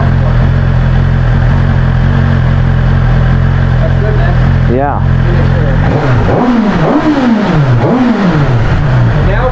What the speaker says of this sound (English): Now we have the exhaust valve open, so the bike actually sounds a little more robust.